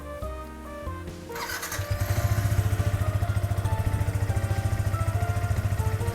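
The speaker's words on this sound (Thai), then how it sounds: "มาฟังเสียงท่อกันเลย" Yamaha YZF-R15 sport motorcycle from 2017 with its stock exhaust, 33,000 km on it, starting up and then settling into a close, loud, steady idle with a rapid even exhaust pulse.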